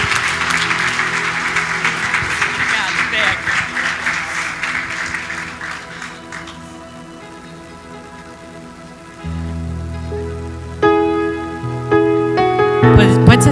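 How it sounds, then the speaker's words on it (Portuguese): A church congregation claps in loud, sustained applause for several seconds, which then fades out as keyboard and organ-like music swells in its place. "Aplauda o Senhor novamente, porque Ele é digno"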